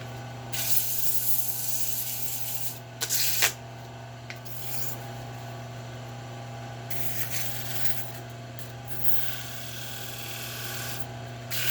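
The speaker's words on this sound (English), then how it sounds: "So yeah, I'll sand this up and pretty much this is done." Steady close rubbing of sandpaper over a wooden turkey pot call, a continuous rasping hiss with brief pauses and one louder scuff early on, heard alone over a faint background hum.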